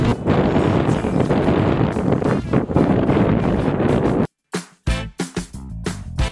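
Loud, steady headwind buffeting the microphone while cycling for about four seconds, then a sudden drop to quiet with broken gusts and rustling.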